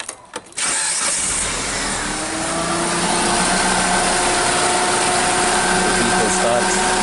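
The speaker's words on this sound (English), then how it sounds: "The vehicle starts real good." A 2003 Mitsubishi Lancer engine cranks briefly, then catches and settles into a loud, steady running note close by, holding even through the rest of the clip.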